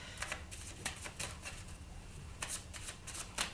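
Tarot cards shuffled by hand for a cross spread, a run of crisp riffling bursts spaced irregularly, close and fairly quiet with no talking.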